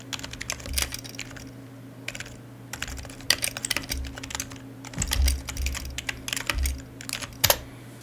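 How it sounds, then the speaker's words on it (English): Rapid bursts of clicking keystrokes on a computer keyboard, close and fairly crisp, coming in uneven clusters with brief pauses and a low steady hum behind. "come on, work with me now, keyboard."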